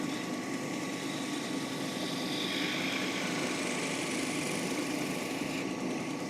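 A wood lathe makes a light planing cut during festive woodturning: a steady motor hum carries a hissing, scraping layer of the tool taking fine shavings, which swells in the middle of the cut.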